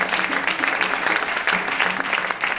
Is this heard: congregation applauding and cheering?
yes